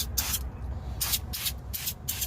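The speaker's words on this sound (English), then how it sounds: "So you're just gonna spray it like this." A spray paint can hisses over a guitar pedal in four short, close bursts, evenly spaced, with quiet room noise between.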